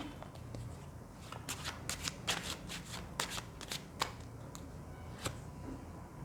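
Tarot cards shuffled in the hands, a run of crisp riffling flutters and soft slaps, close and fairly quiet, with a few isolated card snaps toward the end and no voices.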